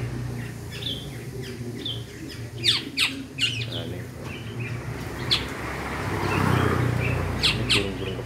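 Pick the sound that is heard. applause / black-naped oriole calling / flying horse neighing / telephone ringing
black-naped oriole calling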